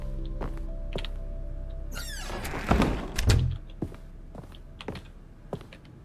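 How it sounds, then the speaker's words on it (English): Sharp keyboard-like clicks as objects are touched in the video game The Stanley Parable: Ultra Deluxe, a scattered series of close taps with a heavier thunk and rattle near the middle. "it sounds like I'm hitting keyboard when I'm trying to touch everything"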